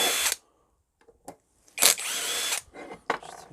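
A power drill drives hex screws out of a modulating gas valve in short, close bursts of whirring, three or four separate runs with quiet gaps and small clicks between them.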